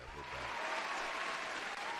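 Soundboard applause effect on a live baseball talk show, a short faint burst of clapping lasting about two seconds.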